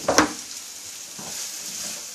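Organic sweet red peppers and a Vidalia sweet onion drop into a hot stir-fry pan with a quick clatter. A soft, continuous sizzle follows, with no talking.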